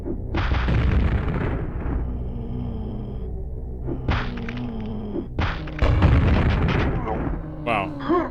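Booming blasts from a grenade explosion in the N64 video game Quake 64, played on nightmare mode, several heavy bursts with rumbling tails over game sounds and a voice talking.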